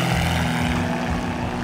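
A private jet aircraft landing at Punta Gorda gives a steady loud cabin roar of engine and rushing air, constant and unbroken with a low droning hum beneath.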